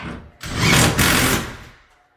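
A power drill whirs up, runs at full speed biting into wood for about a second, then winds down and stops.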